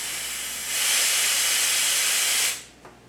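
Pressurized air rushes out of a 30-caliber Karma Red Panda Bench air rifle as it is degassed through its bleed valve with a T25 wrench, a steady loud hiss lasting about two seconds before tapering off, followed by a small click.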